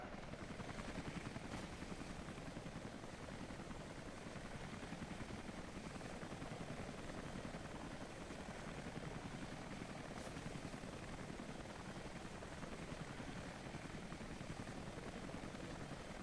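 A helicopter in Rise of the Tomb Raider drones steadily throughout, its rotor thrumming loud and constant with a broad engine roar, no voices present.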